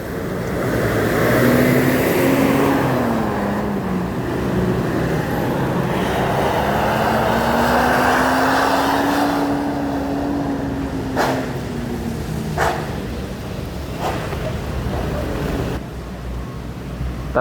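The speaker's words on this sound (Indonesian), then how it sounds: "Transport bis keempat masuk ke terminal Palembang pagi ini, yang pakai bodi Laksana SR3" Bus with a Laksana SR3 body rolling into Palembang terminal on a rainy morning, a steady engine drone with a slowly rising and falling pitch, close and loud over rain and road noise, with a few sharp knocks near the end.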